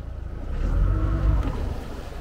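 A boat's outboard engine idles and runs steadily at a dock as the boat begins backing away, a low continuous rumble with no talking over it.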